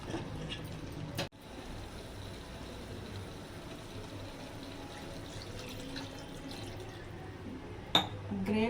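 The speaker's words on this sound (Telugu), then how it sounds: "గ్రేవీ ఎంత కావాలో అంత వాటర్ పోద్దామండి." Water pours into a simmering chicken curry gravy in a Telugu home kitchen, a quiet, steady liquid rush and gurgle lasting several seconds, with a brief knock near the start and another near the end.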